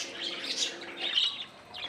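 Pet birds kept at home chirp in soft, rapid, high-pitched bursts that overlap almost continuously, fairly faint and with no voices.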